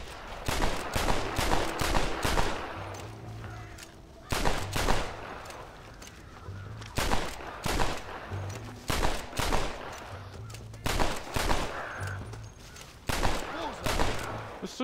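Gunfire in the western video game Red Dead Redemption: repeated sharp shots in irregular bursts and volleys over about fifteen seconds, loud and close, with brief pauses between clusters.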